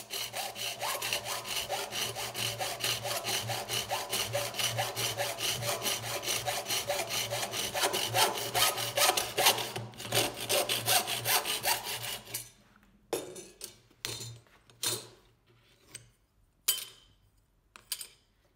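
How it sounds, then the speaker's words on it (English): An aluminium channel is hand-sawn in a 3D-printed miter block, producing rapid, close back-and-forth rasping strokes for about twelve seconds, then a few scattered short strokes and clinks as the cut finishes. "The next step is to cut the aluminium channels to length."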